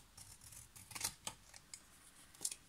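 Scissors snipping through glued material while making a tissue box, a handful of crisp, close cuts spaced irregularly, quiet and with no talk.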